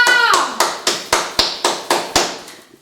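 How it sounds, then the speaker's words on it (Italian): Slow, rhythmic claps, about eight evenly spaced, sharp and close, fading out at the end, with a brief voice at the very start. "facciamo un applauso a San Nicolò!"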